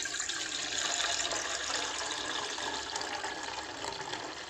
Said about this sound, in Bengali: তো আগে দুধটা ঢেলে নিই